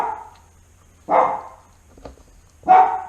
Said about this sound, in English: There they go, neighbor doggies.